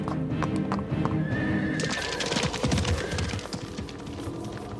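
Horses neighing and whinnying over a steady clip-clop of hooves, loud and close, with a busy clatter of hoofbeats that thickens partway through and runs on to the end.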